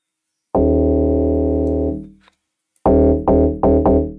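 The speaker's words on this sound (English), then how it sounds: "Then the other log drum, which is this like sustained notes." A long sustained low log drum synth note rings for about a second and a half and fades, then three shorter punchy bass notes follow in quick succession.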